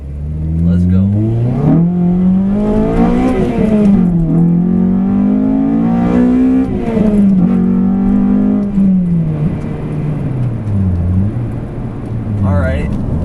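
Honda car fitted with a FlashPro tune accelerating hard through the gears toward 60 mph, engine note climbing and dropping with each shift, loud and close throughout.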